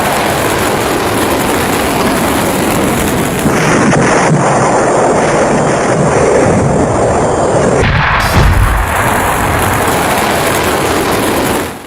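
Cluster bomb explosions from an Iranian missile strike on Israel, heard as a loud, distorted, continuous roaring rumble with wind-buffeted crackle and a heavier thud near the end, with no pauses.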